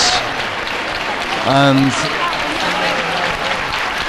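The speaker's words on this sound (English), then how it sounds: "And the crowds are going absolutely crazy now. They're clapping and applauding" A crowd at a Semana Santa procession in Seville claps and applauds, a dense continuous wash of hand claps with a voice talking over it.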